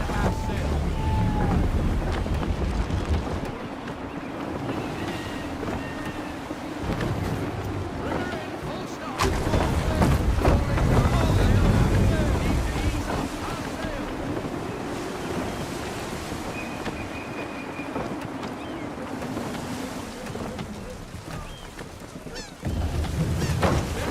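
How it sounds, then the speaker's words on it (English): Gusty wind and surging waves around a sailing ship in Assassin's Creed 3, a steady loud roar of sea and air with rising and falling gusts throughout, no talk. "Wind looks to be shifting. Stay alert, Connor. Gusty winds can be difficult to manage."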